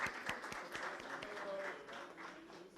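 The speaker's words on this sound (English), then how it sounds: "A big round of applause for all the jury members." Faint applause for jury members at a water sustainability awards ceremony, with scattered individual claps standing out over a soft, distant bed of crowd clapping.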